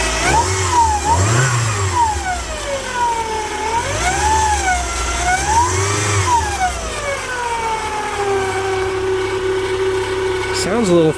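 A 1999 Mazda Miata convertible's engine runs at idle and is revved several times in smooth rising and falling swells, loud and close, with a faint whine over the top and a sharp click near the end.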